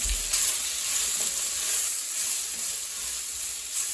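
Chopped onion sizzles in a little olive oil in a seasoned pan, a steady close hiss that stays alone, with a soft stir or swish of the pan near the start.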